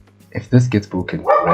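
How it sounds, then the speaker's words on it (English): A pet dog barks in a quick burst of several yips and bow-wows, close and loud, overlapping a man's speech indoors. "I'm sorry for my dog if you guys can hear that."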